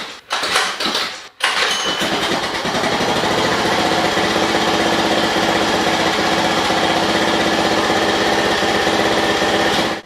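A Honda 2 hp outboard motor idles after a carburetor mixture adjustment, a steady rapid buzzing putter close to the microphone, briefly interrupted at the start before running evenly.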